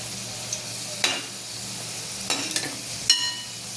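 Modak fry in oil over a low gas flame with a faint, soft sizzle, broken by a few sharp clinks of a utensil stirring in the pan.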